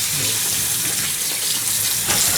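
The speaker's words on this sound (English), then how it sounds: "Now let's rinse it off." A dish with scratch marks being rinsed under a running kitchen tap, with steady water gushing and splashing continuously, close and loud, with no voices.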